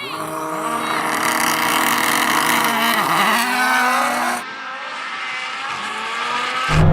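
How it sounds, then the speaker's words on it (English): A rallycross car engine revs hard at full volume, its pitch sweeping and bending through gear changes with tires squealing, then cuts abruptly to a lower, steadier drone before surging again. "God, that rallycross car's good."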